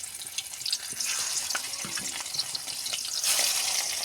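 A piece of fish fries in hot oil in a wok, a steady bright hiss that swells toward the end, close and alone with no talk.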